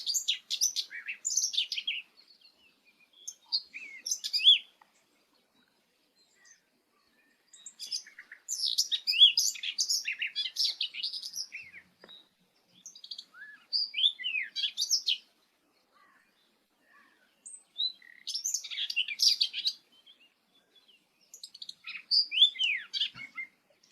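Common whitethroat singing alone in bursts of scratchy, jangly warbling separated by short silences, fairly close and clear with no talking.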